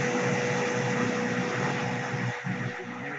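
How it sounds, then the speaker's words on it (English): A vacuum cleaner hums steadily in the background of a Zoom call, a constant broadband whir with a faint tonal drone and a brief dip near the end, with no talking over it. "Somebody sounds like a vacuum's going."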